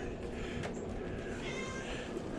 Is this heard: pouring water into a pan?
no